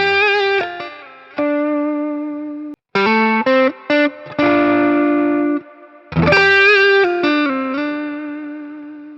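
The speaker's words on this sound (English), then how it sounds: "I'm just gonna add the distortion just to have a little bit of more bite." Donner DST-550 electric guitar played through heavy distortion, ringing out chords and riffs in bursts with brief pauses, loud and close with a bright, biting edge.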